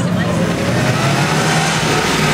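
A 1938 Bugatti-bodied four-seat, two-door Type 57 coach drives by at a festival, giving a loud, steady engine drone with a voice talking over it.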